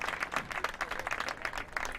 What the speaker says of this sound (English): she'll get a round of applause as she exits.